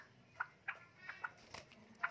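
A hybrid jungle fowl, a young forest-bred bird, gives several short, sharp calls spaced about half a second apart, moderately close against a quiet background.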